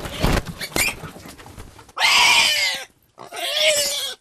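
Pigs at a highland pig market squeal in two loud, harsh bursts after a stretch of rustling and thumping handling noise, with a short silent gap between the squeals.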